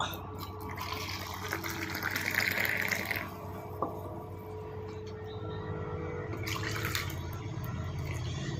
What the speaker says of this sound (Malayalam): അതിന് ശേഷം നമുക്ക് വെള്ളം ഒഴിക്കാം